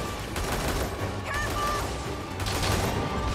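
Gunfire from an upgraded gun in Monster Hunter Rise on PlayStation 5 rattles steadily as a dense, continuous burst mixed with game effects, with no voices.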